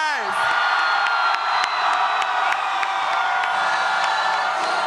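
A large, loud crowd of Bernie Sanders supporters at a Utah rally cheers, whoops and yells continuously, a dense roar with scattered shouts and claps.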